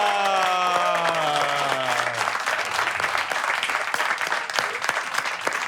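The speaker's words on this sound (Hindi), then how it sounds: "दोस्तों तालियां नहीं रुकनी चाहिए भाई, तालियां नहीं रुक जानी चाहिए।" A live studio audience at a comedy and poetry show claps in sustained, dense applause. A fading musical sting rings out at the start.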